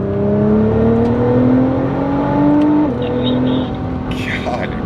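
Nissan GTR with a twin disc clutch revs and downshifts from inside the cabin, engine tone climbing steadily then dropping sharply at the shift, with a person talking over it.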